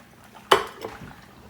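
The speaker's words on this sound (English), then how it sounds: "you can hear it sizzling a little bit when I add those eggs in there" Eggs hitting warm grease in a skillet: one sharp metallic clatter of the pan, then a faint, brief crackle of sizzle that fades quickly, with no voices.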